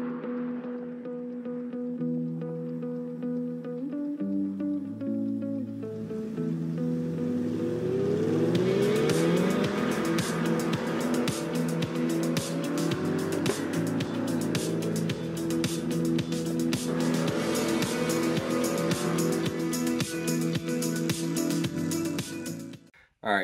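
Engine of a hybrid all-wheel-drive GM Corvette C8 driving on snow, a steady loud drone that rises in pitch as it accelerates and revs, with rumbling and tire noise throughout, holding to the end.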